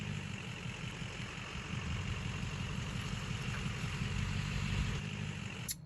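A restored 1966 vehicle engine idles steadily and loudly, with a dense low rumble that holds even throughout, with no voices over it.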